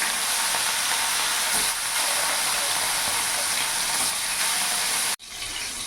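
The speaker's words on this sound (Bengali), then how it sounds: "মাছটা এখানে ভাজা হচ্ছে" Rui fish pieces frying in hot mustard oil in a kadai, a loud, dense, steady sizzle and hiss that cuts off abruptly near the end.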